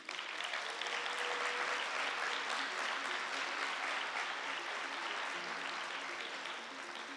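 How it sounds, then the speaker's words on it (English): An audience at the Estonian Startup Awards gala applauds the startup award nominees with sustained, dense clapping that holds steady throughout, with no one speaking over it. "A big applause to these nominees,"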